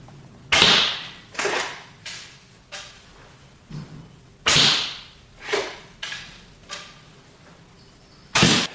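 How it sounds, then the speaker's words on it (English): Arrows shot from a barebow recurve at a paper cup target about 4 or 5 meters away, each one a sharp, close snap followed by a short fade, roughly nine shots at irregular intervals with no talking. "I'm going to shoot at it until I get 3 arrows stuck into the cup"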